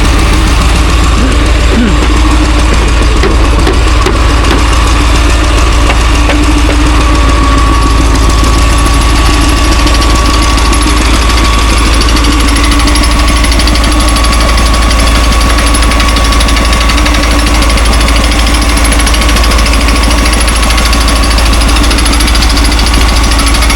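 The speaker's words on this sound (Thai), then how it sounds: "กำลังตีกำลังเจาะลงเนาะ" A loud drilling machine hammers continuously into rock layers in the ground, a rapid pounding rattle over a heavy engine drone that never lets up.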